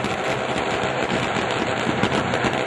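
A battery of firework rockets salutes a football team entering the field at a stadium, bursting in rapid, crackling volleys that run on without pause.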